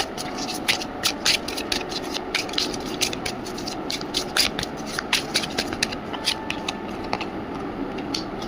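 Tarot cards being shuffled and drawn during a candle wax reading, with a steady run of soft papery flicks and riffles close up, some brief sharper snaps, and faint talk underneath.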